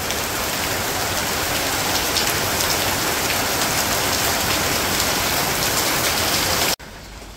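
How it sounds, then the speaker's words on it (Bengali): Steady, dense rain falls on a village home, a loud continuous hiss of drops on surfaces with no pauses, cutting off abruptly near the end. "বৃষ্টিও নামছে"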